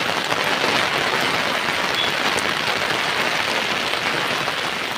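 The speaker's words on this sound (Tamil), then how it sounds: "சரியான மழை, நிற்க கூட முடியலங்க." Heavy, wind-driven rain pours down in cold weather, a dense, loud, unbroken hiss of drops striking surfaces that stays steady throughout, with no voices.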